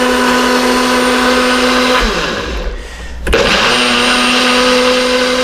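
A blender grinds a keto smoothie, a loud steady motor whir that dips and strains partway through, then surges back to full speed with no talking.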